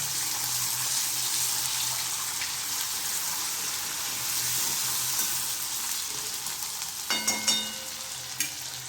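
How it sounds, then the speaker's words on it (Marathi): Chili, ginger and garlic paste frying in a kadhai, a steady close hiss and sizzle throughout, with a few light clinks of a utensil stirring near the end. "आता टाकतोय मिरची आलं लसूणचं पेस्ट पुन्हा एकदा थोडंसं फ्राय करून घ्यायचं"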